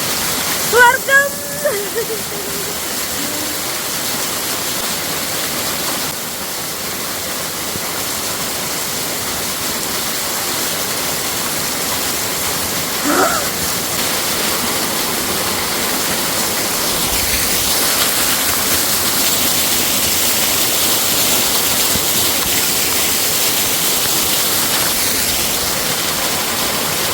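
Steady outdoor rain hisses evenly and continuously across the whole stretch, a wide wet wash with no pauses, joined by a few faint, brief vocal sounds near the start.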